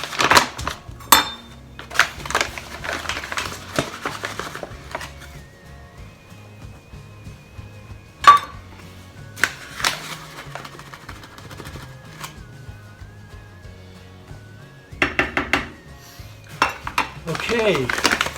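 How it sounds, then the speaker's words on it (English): Bread flour measured and added into an upright bread maker, with repeated metal and plastic clinks, scoops and taps of measuring cups and pans, close and intermittent, and some quieter stretches between. "So now it's time to add 1 1/4 cup of bread flour."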